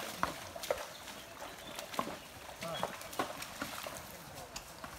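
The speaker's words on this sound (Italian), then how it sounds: "il cavallo si è impuntato che non vuole attraversare il fiume." A horse's hooves clop irregularly on ground by a river it refuses to cross, with scattered sharp knocks and a soft trickling background; a voice talks over it.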